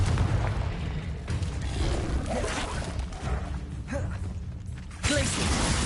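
Confringo fire spell explosion in the Hogwarts Legacy video game on PS5: a dense, continuous rumbling blast with creaking and mechanical clatter, loud throughout and swelling again near the end.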